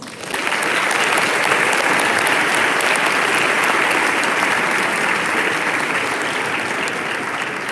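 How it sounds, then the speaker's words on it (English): Loud, sustained applause from a large audience at a LIMUN 2025 Model UN closing ceremony, a dense wash of clapping that starts abruptly and holds steady for several seconds. "Please, a round of applause."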